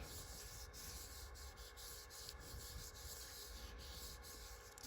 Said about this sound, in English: really kind of just feel to make sure that you're rubbing all of the parts on the back to get that ink to transfer